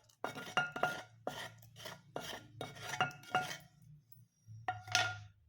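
Metal utensils clink and tap sharply against a bowl as tempering is added for bun dosa, in a series of close, separate strikes with short gaps and a brief pause before a final clink.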